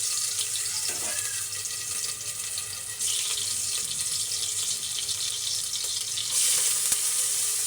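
Crushed garlic and ginger fry in hot oil for a vegetable khichuri. A dense, hissing sizzle runs throughout and swells louder twice as the frying intensifies. No one speaks.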